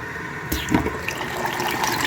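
Water runs steadily into a container during cleaning of pool filter sand substrate for an aquarium, a close, continuous gushing and trickling fill that picks up after a brief start.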